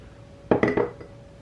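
A small spatula scraping butter mixture from a bowl, a quick cluster of three or four close clinks and scrapes against the bowl, then quiet.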